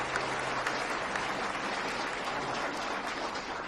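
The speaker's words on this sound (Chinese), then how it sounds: "掌声有请" An audience at an architecture symposium claps in steady, sustained applause, a dense even patter of many hands at moderate volume with no pauses.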